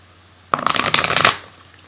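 Oracle cards are shuffled by hand in one close, loud burst of rapid papery riffling that lasts under a second and then stops.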